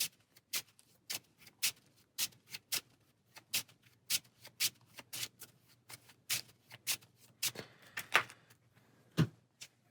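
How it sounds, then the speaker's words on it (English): Game cards for a Transformers deck-building game are shuffled with a run of quiet, crisp clicks and flicks in an uneven, fairly regular rhythm, close and faint. "Shuffle these all up."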